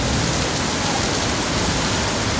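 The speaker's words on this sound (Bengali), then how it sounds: "এত প্রচুর পরিমাণ বৃষ্টি।" A dense downpour of heavy rain in Malaysia hisses loudly and evenly, a thick wash of drops striking nearby surfaces without pause.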